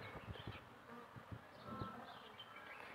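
Kashmiri honeybees (Apis cerana) buzzing densely around a hive box fully covered by the colony, a continuous close, soft droning hum with individual bees passing near, no talk.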